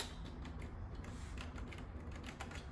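Quick, steady clicking of keys on a small wireless keyboard with round typewriter-style keycaps, faint and close, with no voices.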